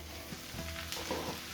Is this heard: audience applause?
no